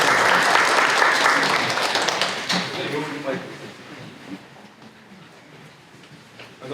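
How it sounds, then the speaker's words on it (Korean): Loud applause from a talk-concert audience for a doctor, dense clapping that fades after a few seconds while a voice begins speaking over the thinning claps. "우리 김우진 박사님한테 다시 한번 큰 박수 주시고"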